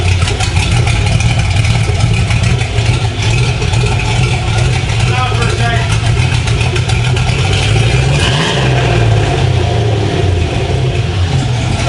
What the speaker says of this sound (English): Last time you heard this Jeep, it was down on 2 cylinders, right, Sean?